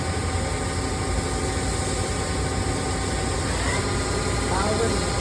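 Kuraki KMB 11 A CNC horizontal table-type boring machine with a 4.33-inch spindle and Fanuc 16 control runs at a steady 750 RPM, giving a constant loud machine hum with a faint rising whine near the end.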